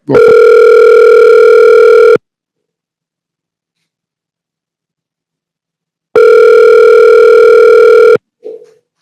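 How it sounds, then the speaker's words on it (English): A phone dialer plays a loud, steady dial tone for about two seconds, goes silent for four seconds, then sounds a second identical two-second tone. A brief faint voice follows at the end. "the dialer works pretty good"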